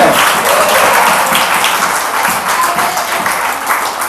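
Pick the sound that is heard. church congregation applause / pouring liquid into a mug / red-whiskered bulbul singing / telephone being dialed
church congregation applause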